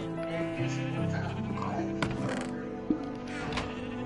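Sheep in a PS4 video game bleat repeatedly, several wavering calls overlapping in quick succession at close range, with faint speech underneath.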